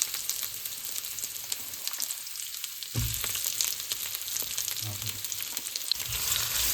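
Chopped onions and two green chilies sizzle in hot oil for paneer butter masala, a steady frying hiss with a sharper burst as they hit the pan partway through.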